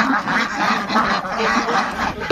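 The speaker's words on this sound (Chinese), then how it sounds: "我手中的玉米，我一扔，这些鸭子都来" A flock of ducks quacks continuously and loudly at close range as corn is tossed to them on a frosty rural farm, the calls overlapping in a busy, excited chatter.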